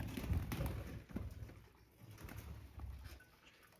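Soft, low pigeon coos repeating nearby, a few calls overlapping, with faint background noise and no talking.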